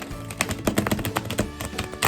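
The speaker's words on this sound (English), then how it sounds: "let's give it a shuffle" A tarot card deck being shuffled by hand, heard as a close series of quick papery taps and riffling clicks in uneven bursts with brief pauses between them.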